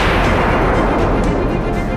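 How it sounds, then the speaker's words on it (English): Loud, dense rumbling blast noise from wartime missile-strike news footage in Iran, a sustained roar of booms and crackling fire filling the whole moment with no voices. "Explosion."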